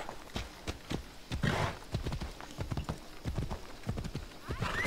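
A horse ridden in Assassin's Creed Odyssey clip-clops along at a brisk, steady gait, hooves close and distinct, with a brief whinny partway through; no speech.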